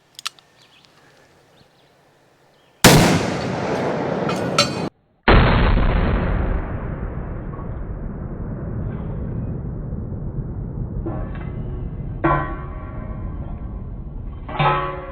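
A Smith & Wesson Model 29 .44 Magnum revolver fires a few very loud, sharp shots outdoors on a range, each blast followed by a long rolling echo that fades slowly.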